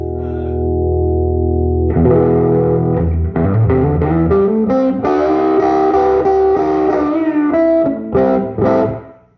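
A guitar played through a restored Silvertone 1482 amplifier gives a gritty, distorted tone: a sustained chord, then a run of loud picked notes and chords with heavy grit, close and alone, ending abruptly.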